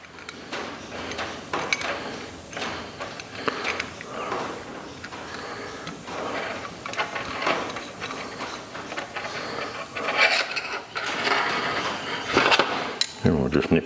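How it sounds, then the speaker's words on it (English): Metallic ratcheting clicks and small scraping, clinking handling noises come as the needle is screwed back into a leaking Chinese copy of a Zenith carburettor, close up and uneven, with louder bursts near the end. "We'll screw the needle back in."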